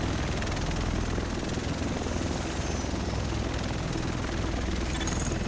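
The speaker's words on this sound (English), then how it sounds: "The rest of us should be in this chopper." A helicopter arrives with steady, loud rotor thumping and engine roar that fills the whole stretch at a constant level.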